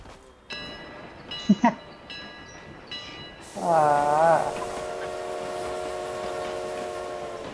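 A train in the mobile battle game BGMI sounds a loud, sustained horn, preceded by a few brief metallic clanks and squeals, then holds a steady wailing tone that carries on alone over a background hum.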